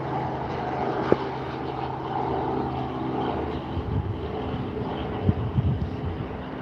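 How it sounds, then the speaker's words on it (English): A helicopter lifts off at Barton Aerodrome, its engine and rotor a steady mid-distance drone with a few sharp knocks and rising thumps toward the end; no talking. "There's one helicopter off."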